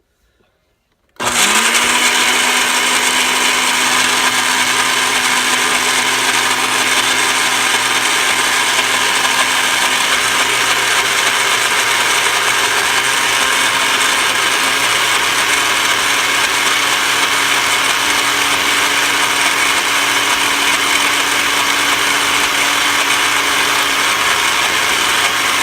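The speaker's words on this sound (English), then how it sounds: "we'll set this down and we'll thoroughly blend until yum" A blender whirs continuously at full power while grinding peanuts into smooth peanut butter, starting abruptly after a brief silence and holding a loud, steady motor drone with a constant whine throughout.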